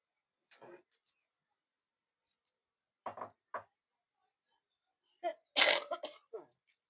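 Several short, scattered coughs and throat-clearing sounds, close by, with quiet pauses between them and a louder cluster toward the end.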